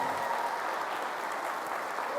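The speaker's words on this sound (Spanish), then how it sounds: "esperemos a recibirla con un fuerte aplauso al Señor" Church congregation applauding to welcome their pastor, a steady, dense wash of clapping from many hands filling the space evenly throughout, moderately loud with no talk over it.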